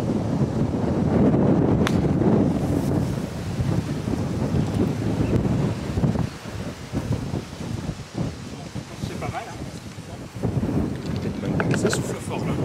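Strong wind buffets the microphone at an outdoor golf play-off in Marseille, heavy low roaring gusts rising and falling over about thirteen seconds, loudest early and easing in the middle before picking up again.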